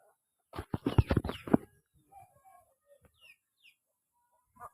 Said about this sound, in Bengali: হুন্ডার পাশে একটা পাখিও আছে গাইস